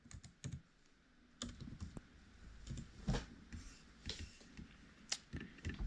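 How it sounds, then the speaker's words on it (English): Someone types their name on a computer keyboard for an online course, producing quiet, close, irregular bursts of key taps with short pauses between them and no speech. "Type your name."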